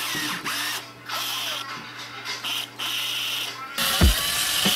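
A cordless screwdriver fitted with an abrasive attachment strips lacquer from a car body, whirring in several bursts with short pauses, then a louder, harsher stretch toward the end.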